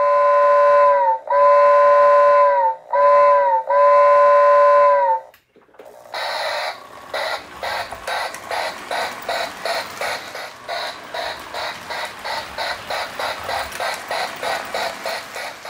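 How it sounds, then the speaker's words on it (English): A vintage 1970s MPC-era Lionel Union Pacific toy train engine gives three high-pitched whistle toots, then runs with a steady rhythmic mechanical chuffing and E-unit buzzing that repeats evenly and close up. "You hear that mechanical E-unit buzz. There's the static chuffing, that high-pitched whistle"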